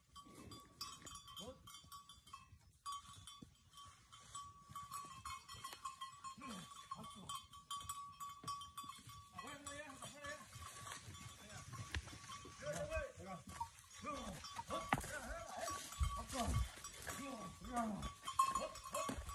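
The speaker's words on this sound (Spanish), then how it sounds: "Ahí viene la otra vaca que falta" Cattle arriving at a ranch gate in a barranco setting, with hoof movement, bleating livestock and a clanking bell amid rural ambience, while people talk throughout.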